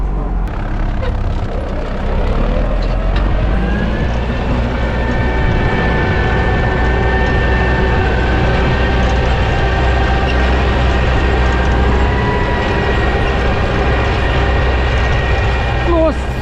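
An MTZ-80 tractor fitted with a homemade cultivator, working a soybean field in spring, runs with a loud, continuous engine drone whose pitch climbs as it pulls away, then settles into a steady roar.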